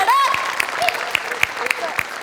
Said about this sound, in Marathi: सो बनेसाठी एकदा टाळ्या